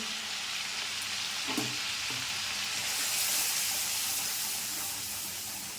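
Spices, green chili and ginger paste with yogurt and Kashmiri chili powder fry in a pan for aloo dum, a steady close sizzle with a couple of soft stirring knocks early on.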